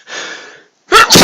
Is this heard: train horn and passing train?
no